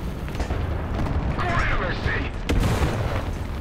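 A tank cannon fires in War Thunder, one heavy boom near the end over rumbling engine noise, with someone talking throughout.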